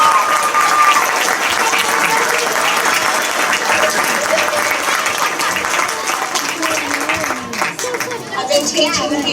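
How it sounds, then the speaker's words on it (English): Loud, sustained applause from a crowd at a school PTA gathering honoring teachers and students, dense clapping filling the whole stretch with children's voices and chatter mixed in. "let's give another big round of applause for our teachers and our students"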